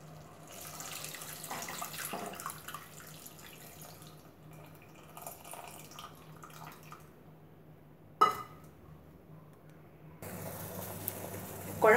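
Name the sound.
tamarind water poured into simmering kuzhambu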